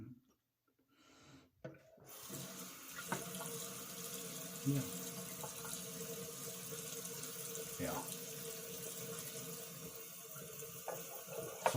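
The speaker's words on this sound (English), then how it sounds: "Sorry about the water running." Tap water runs steadily into a bathroom sink after a shave, a continuous close splashing hiss that starts after a short quiet moment, with a few brief spoken words over it.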